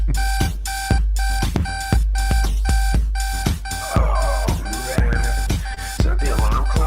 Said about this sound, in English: Is that the alarm clock?